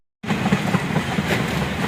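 A train rumbles past close by, a loud, steady rolling roar that starts abruptly and continues without letup.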